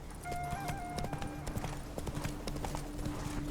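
Hoofbeats of the horse Roach in The Witcher 3: Blood and Wine, a steady, rapid clip-clop under game ambience and a faint tonal score.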